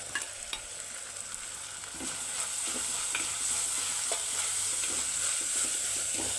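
Crushed garlic, ginger and green pepper hit hot oil in a pan, the sizzle swelling louder after a couple of seconds into a steady crackling hiss with scattered stirring ticks, no talk.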